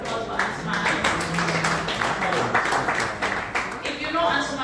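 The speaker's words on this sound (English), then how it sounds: "Please put a round of applause for Ansumana." A round of applause for a guest at a dialogue event hosted by Activista Gambia with National Assembly members, a dense, continuous patter of many hands clapping throughout, with some voices underneath.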